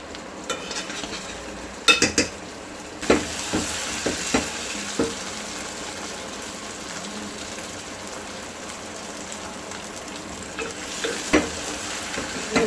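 Chicken keema sautés in a pan with coriander, a constant sizzle broken by repeated scraping and clinking strokes of a spatula, several sharp knocks early on and more stirring near the end.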